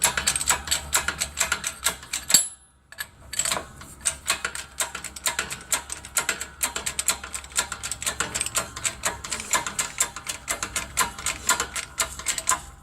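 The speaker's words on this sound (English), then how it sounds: "then I'll just pump it up. This is just a cheap Harbor Freight 20-ton press." Rapid, rhythmic mechanical clicking and ratcheting as a cheap Harbor Freight 20-ton hydraulic press is pumped, close and fairly steady with a brief pause early on, no talking.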